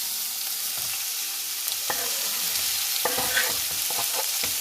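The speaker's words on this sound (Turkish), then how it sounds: "Soğanları hemen tavamızın içine atıyoruz." Onions sizzle steadily in a frying pan while a utensil stirs them, giving scattered scraping clicks and taps over a continuous hiss, close by with no talking.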